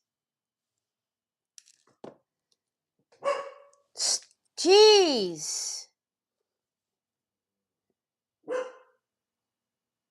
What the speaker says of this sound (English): can you come get your dog?